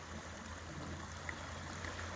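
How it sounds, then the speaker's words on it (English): Lime Creek, a clear mountain creek, runs past a campsite with a very quiet, steady trickling babble and a faint low hum, with a couple of soft splashes rising briefly above it. "It's like Lime Creek is a clear running creek."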